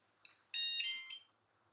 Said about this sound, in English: So you now hear that it is beeping